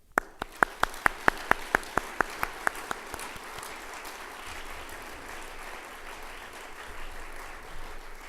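A roomful of people at the Green Tourism Conference 2014 awards applauding the award holders and Gold Star shortlist: a few sharp, evenly spaced claps open it, then a dense, sustained crowd applause that carries on steadily.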